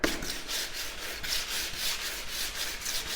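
Steady rhythmic rubbing of sandpaper on wooden boards around a window, close and continuous, with repeated back-and-forth strokes at an even pace.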